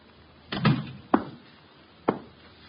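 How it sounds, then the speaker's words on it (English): Wooden door in an old radio drama scene being shut, a sharp thud followed by two more distinct knocks or bumps spaced apart, close and clear with no talking. "Shut the door, Chuck."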